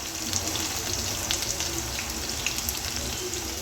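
Onions tossed into hot oil with garlic fry with a dense, steady sizzle and scattered pops, heard close and continuous while cooking biryani.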